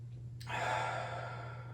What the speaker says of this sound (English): Hold it. And exhale through the mouth.